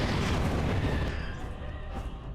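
A loud explosion in the Dragon Age: Origins video game: a heavy, close boom with a broad roar that fades slowly over about two seconds.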